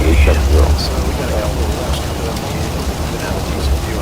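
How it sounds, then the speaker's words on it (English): Heavy rain drumming on an airliner in flight over water, a dense steady patter layered over low cabin and engine rumble, with voices talking through it. "Ah, the rain is back."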